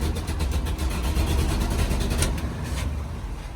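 A 45-year-old Ford F-600 dump truck's engine idles close by, a loud, steady, rough rumble with a fast throbbing pulse throughout.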